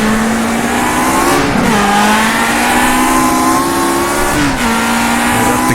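Race cars in rFactor 2 on a road racing circuit, screaming engines revving up through the gears as they pass, loud and continuous with pitch rising and dropping at each shift.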